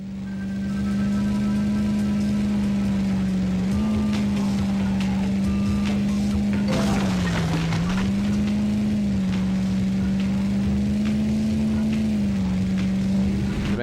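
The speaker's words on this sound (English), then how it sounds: "The drone of the engine makes it really hard to know when to change gears." A steady car engine drone from the Nintendo 64 racing game Beetle Adventure Racing hums continuously at a fairly constant pitch, dipping and rising slightly as gears shift, with a brief burst of crash-like noise midway.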